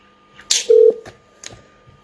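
Telephone call tones on a line: a short burst of noise, then a single steady electronic tone, followed by faint clicks, brief and alone with no talk.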